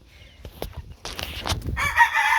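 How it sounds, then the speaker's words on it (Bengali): Local desi chickens cluck in a farmyard with scattered short clucks and rustling, building to a louder burst of crowing and clucking near the end, with no talk. "বাড়িতে মুরগির বাচ্চার কিন্তু অভাব নাই এদের নিচে দেখেন এর নিচে দেশি মুরগিগুলা"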